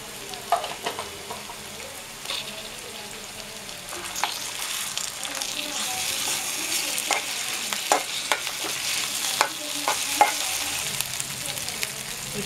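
Ginger garlic paste sizzles and fries in a pan for a prawn curry while a spoon stirs and scrapes intermittently, a steady close crackle that grows louder over the course of twelve seconds.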